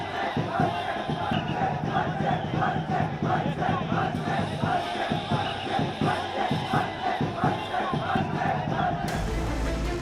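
Large crowd of supporters cheering and chanting after Mumbai municipal corporation election results, rhythmic shouted slogans and drumming-like pulses filling the space, loud and continuous.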